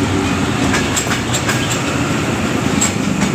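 A long passenger train bound for Karachi at Pasrur railway station in Pakistan rolls steadily past, with a continuous loud rumble and repeated wheel clicks across the whole stretch.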